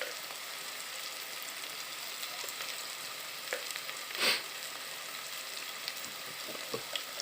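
A roasted eggplant mixture seasoned with ground cumin, red chili, salt and turmeric cooks in a pan with a quiet, steady sizzle. One louder stirring clatter comes midway, and a few small taps follow.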